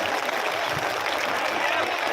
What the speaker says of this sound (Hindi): ताली बजा करके सभी लोग